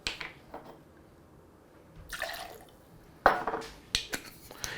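Hungarian Unicum herbal liqueur and vodka are poured into a glass close to the microphone, giving faint trickles, splashy bursts and a few sharp clinks against the glass.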